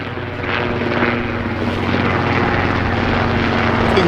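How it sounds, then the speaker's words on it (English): A helicopter roars close overhead, its rotor throbbing steadily and growing slightly louder, with no other sounds. "Okay, hello, helicopter."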